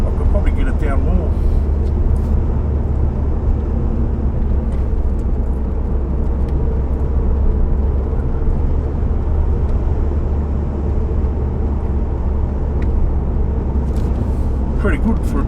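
A turbocharged Ford Mustang cruises along an open road, a steady low engine drone and tyre rumble heard from inside the cabin, loud and unbroken throughout.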